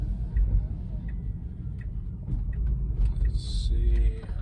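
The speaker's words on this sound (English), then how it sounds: "So the car is driving on its own." A Tesla driving itself under supervised Full Self-Driving in light rain gives a steady low road rumble and engine-free hum throughout, with a few faint ticks and a brief higher tone near the end.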